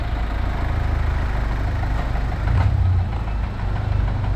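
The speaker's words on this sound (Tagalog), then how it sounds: "Paparinig ko sa inyo yung andar niyan." A Kia Sportage engine idles steadily up close, giving a loud, continuous low rumble with a faint uneven beat and no voices.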